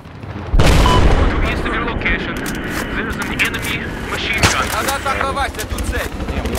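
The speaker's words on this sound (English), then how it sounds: "There's an enemy machine gun." Enemy machine gun fire in a military shooter video game, loud sustained bursts of gunfire among battle noise, with players talking over it throughout.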